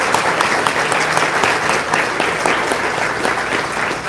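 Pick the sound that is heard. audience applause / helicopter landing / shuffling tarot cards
audience applause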